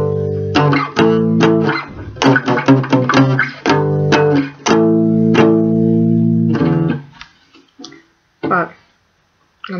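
A guitar plays a simple, slightly bluesy melody on a single string: clear plucked notes in short phrases with brief pauses, close and fairly loud, thinning out to sparse notes near the end.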